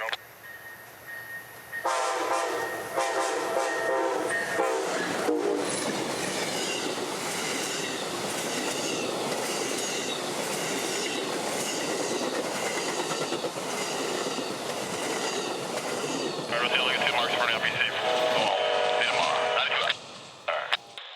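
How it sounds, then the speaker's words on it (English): Amtrak passenger trains 91 and 92 meet and pass near Tampa, a horn blast giving way to a long, loud rumble of rolling cars with wheel squeal and clatter, close by for nearly the whole stretch. "Coming out of Tampa would be a late Amtrak 91, meeting his counterpart northbound, number 92, who'd be a few minutes early this day."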